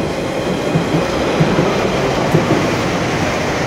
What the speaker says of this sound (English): I believe that was the Loughton train